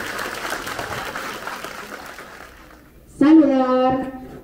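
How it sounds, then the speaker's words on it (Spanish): Audience applause at a kindergarten graduation ceremony in 2022, a dense clatter of clapping for about three seconds that fades before a voice starts speaking. "Démosle un fuerte aplauso a esta generación"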